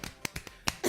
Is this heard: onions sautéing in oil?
no